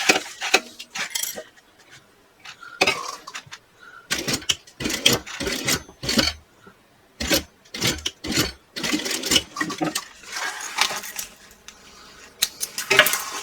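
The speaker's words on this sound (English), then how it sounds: "I'm going to sew across that top right there, back stitching here and back stitching at the top" A sewing machine stitches across the top of a fabric bag seam with backstitching at each end, sounding as loud, close bursts of whirring stitching broken by short pauses and clunks.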